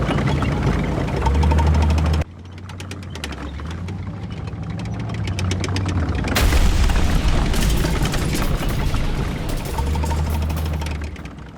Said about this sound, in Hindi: गाइडेड मिसाइल से उसने मार्कवा टैंक को उड़ा दिया